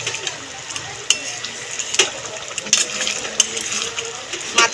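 Fried hilsa fish heads being broken apart with a spoon in a pot of simmering taro and potato curry, giving soft scraping stirs and clinks over a steady sizzle, close and moderately loud.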